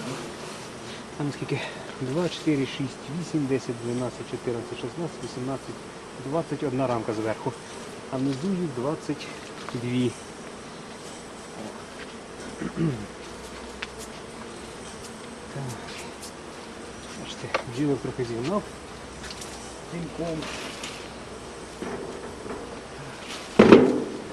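Honey bees buzz steadily around an open horizontal Ukrainian hive during honey frame removal, a close, continuous swarm drone with occasional louder passes and some handling knocks.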